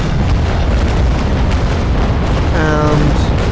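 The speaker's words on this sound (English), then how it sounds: "And double loaded cannons" Double-loaded ship cannons firing in the Naval Action naval battle game, a loud continuous rumble of booming broadsides with no clear gaps.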